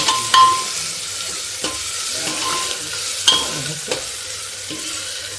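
Onion lightly frying in oil for aloo tamatar sabji, a steady close sizzle with occasional sharper clicks and stirring scrapes of the spoon in the pan, no voices.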